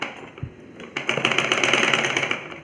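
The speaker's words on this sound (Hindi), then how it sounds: "और बस अब हम इस पे सिलाई लगा लेंगे अपने निशान पे।" A sewing machine stitches seams into a ladies' kurta, a short pause giving way to a steady, rapid mechanical chatter that runs close and fairly loud for about two seconds.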